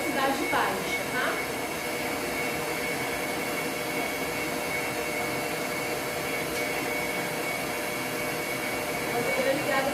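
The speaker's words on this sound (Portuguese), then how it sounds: "A batedeira ligada continua" Electric mixer beating cupcake batter at low speed, a steady close motor whir droning continuously, with faint clinks and brief background sounds over it.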